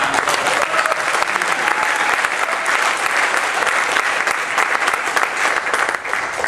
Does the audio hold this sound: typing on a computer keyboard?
no